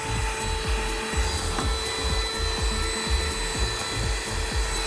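An inexpensive handheld car vacuum cleaner runs continuously with a steady motor whine and a rapid, rhythmic low rattle, loud and close, without speech.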